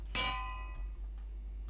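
A single bell struck in Minecraft rings out with a bright metallic clang that decays over about a second, followed by quiet game ambience with a low steady hum underneath.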